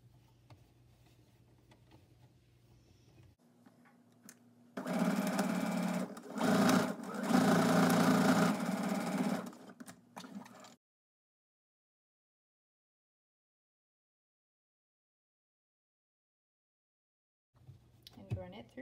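A sewing machine stitches the front of a fabric piece to the back along its bottom side, running in one loud, steady burst of a few seconds with a short pause mid-run, framed by quiet room tone and near-silence afterward.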